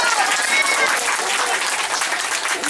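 Applause after a young girl's Kuchipudi dance performance at a home gathering, a short burst of dense, steady clapping from a small crowd, close and fairly loud.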